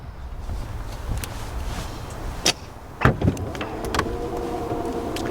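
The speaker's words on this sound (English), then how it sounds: "the Arteon comes with the easy open liftgate as activated by a foot movement under the bumper" A 2019 VW Arteon's hands-free easy open liftgate, triggered by a foot movement under the bumper, releases with a couple of sharp latch clicks and then a smooth motorized whir as it rises, close up, with no talking.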